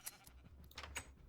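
A sheep in the Minecraft video game bleats softly a couple of times, short quiet wavering calls with faint game ambience around them.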